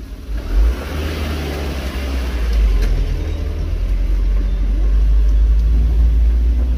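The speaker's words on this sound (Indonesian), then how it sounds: "Nah kita papasan sama truk nih teman-teman." A truck passes on a narrow village road in Kasimpar, Pekalongan, a deep rumbling engine drone that swells and holds close and loud, with no talking.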